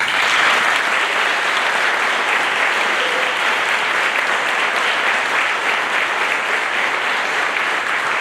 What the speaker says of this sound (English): please join me in a round of applause for the Navy's newest third-class petty officers